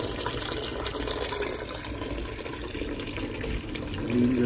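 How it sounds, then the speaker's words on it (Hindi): Warm water poured out for pigeons in winter, a steady broadband splashing and running-water wash that holds for the whole stretch and swells a little louder near the end, with no talk over it. "ग्रीन गर्म पानी जो है वो मैं डालती हूँ"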